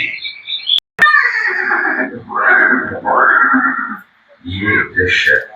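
The horse Chetak neighs in a dramatized scene of his final meeting with Maharana Pranap after the Haldighati battle, loud, drawn-out whinnies up close, broken by short gaps and a sharp crack.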